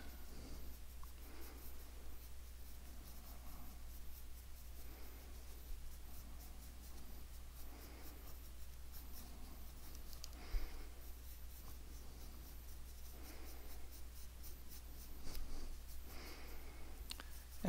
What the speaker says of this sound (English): We'll start bringing it in with this pencil a little bit more.